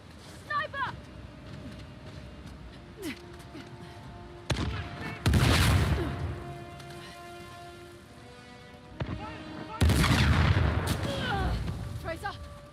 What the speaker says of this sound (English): if a sniper shoots, press the circle button